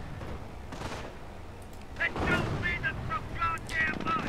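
An MG42 machine gun fires in a WWII strategy video game, with clustered bursts of gunfire and distant battle noise under a muffled background, fairly close and moderately loud.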